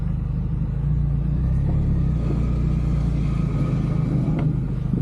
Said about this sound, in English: would say that's brake noise.